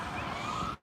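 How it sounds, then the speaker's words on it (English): An ambulance siren on a windy New York City street, close and loud, a rising and falling wail with traffic rumble underneath, cutting off abruptly after under a second. "It's a yellow ambulance."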